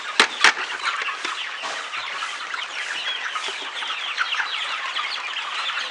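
Hens clucking steadily on a small poultry farm, a close flock chattering continuously with a couple of sharper calls at the start, no voices.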